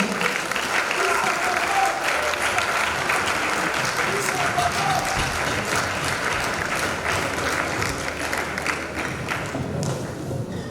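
A crowd claps and cheers during an archbishop's 60th birthday ceremony, a sustained wash of applause with scattered thumps and a voice speaking over it, easing off slightly near the end.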